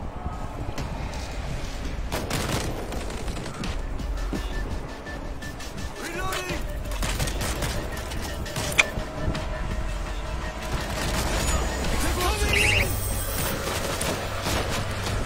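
Machine gun fire in the World War Z video game, dense rattling bursts and booms in a loud, chaotic mix with engine-like rumble and shouting voices over it.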